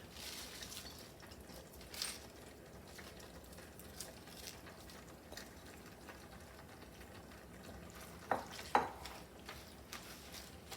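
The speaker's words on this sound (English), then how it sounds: "And then just stir that in there." Spinach is stirred into a simmering creamy tomato and garlic sauce with tortellini, giving a faint, soft stirring and bubbling with a few light utensil clinks against the pan.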